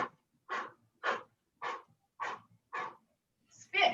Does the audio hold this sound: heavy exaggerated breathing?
yes